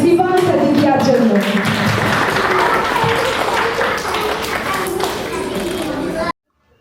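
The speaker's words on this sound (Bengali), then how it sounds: "একটা জোরে হাততালি ফিবান সাদিকিয়ার জন্য" A crowd claps loudly for a young child's performance, a thick, steady patter of applause with a voice talking over it, which cuts off abruptly just before the end.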